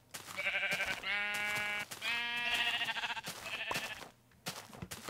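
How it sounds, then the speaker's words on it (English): Sheep bleat in a video game, a few wavering, drawn-out calls one after another with short gaps between them. They sound fairly close and clear, with no talking over them. "Hello, Mr. Sheep."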